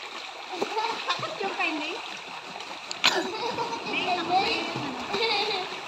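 Laundry being hand-washed in a river: repeated splashes and slaps of wet cloth against flowing water, close and irregular, with voices talking over the splashing.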